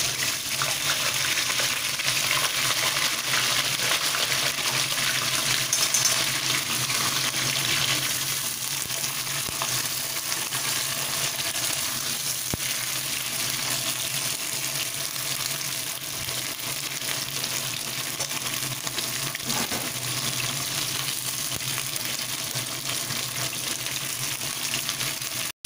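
Flat beans frying in hot oil in a wok sizzle in a continuous dense hiss with a fine crackle, heard close and loud with no voices over it.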